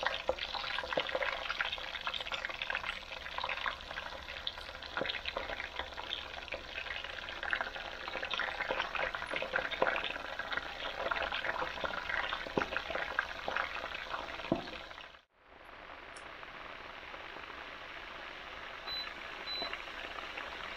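Korean-style catfish fries in hot oil over a lowered flame, giving a steady, dense sizzle and crackle close up with scattered pops. It breaks off abruptly near the end and then resumes.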